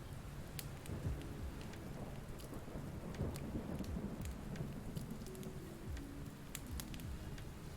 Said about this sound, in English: Can you still hear the fire and thunder in the background?